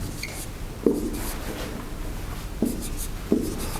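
Chalk or marker scratches against a board during a university probability lecture, a few short strokes and taps standing out over a steady room hiss.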